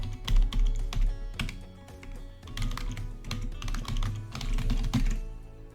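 A username and password are typed on a computer keyboard: clusters of quick, close key clicks and taps in irregular bursts with short pauses, no voices.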